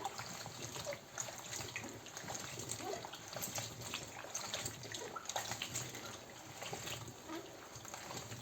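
Fresh strawberries are rinsed under a running tap in a home kitchen, a steady close hiss and splash of flowing water with small trickling variations throughout, no speech.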